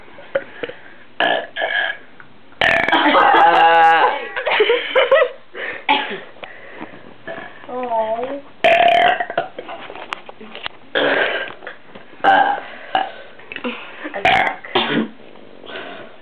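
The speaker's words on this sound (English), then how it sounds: "I'm trying to burp." People burping loudly and repeatedly in short bursts, some drawn-out belches mixed with coughs and throat clearing, close by, with brief laughter and talk between them.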